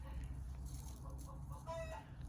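Backyard chickens cluck and murmur in soft, uneven bursts over a steady low background hum, near and moderately quiet, with no talking.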